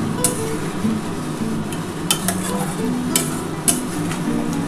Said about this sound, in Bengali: এবার আমি ভালো করে মশলাটা খুব ভালো করে কষিয়ে নিতে হবে